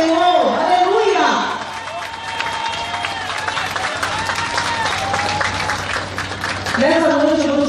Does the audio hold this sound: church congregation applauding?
yes